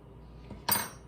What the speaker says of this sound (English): I'm going to put my teaspoon in.